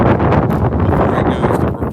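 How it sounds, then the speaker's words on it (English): Strong, gusty wind roars and buffets the microphone outdoors, where a car is being cleaned and worked on, as a loud, continuous broadband rush with no voices. "40-mile-an-hour wind gusts."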